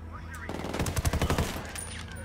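Unsuppressed automatic gunfire in the Ghost Recon Wildlands shooter game cracks out in a rapid, loud burst of shots lasting about a second, amid game ambience.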